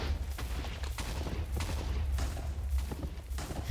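TNT bombs drop from a flying ship in Minecraft and burst over a forest, a rapid, continuous run of booming explosions with a deep rumble underneath and sharp cracks recurring every half second or so.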